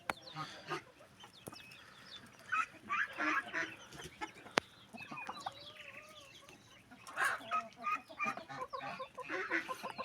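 Farmyard chickens cluck and squawk in scattered bursts at moderate distance, mixed with honking geese and some background clatter, one sharp knock partway through.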